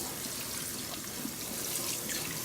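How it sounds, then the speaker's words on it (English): Tap water runs and splashes steadily while tea and vinegar are rinsed out of fabric, a faint, continuous wash with no voices. "We're gonna rinse it all out and dry it."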